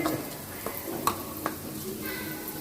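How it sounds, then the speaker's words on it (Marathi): Turmeric roasts in hot oil for a mango pickle spice mix, a soft continuous sizzle broken by a few sharp clicks of a spoon against the pan, with some faint voice in the background. "आता हळद पण तेलामध्ये भाजून घ्यायचं"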